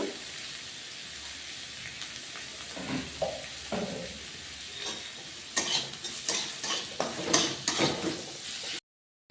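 Onions frying in oil in a pan with a little added oil, for a restaurant-style masala mushroom dish; a soft steady sizzle with stirring scrapes and spatula knocks that grow busier in the second half.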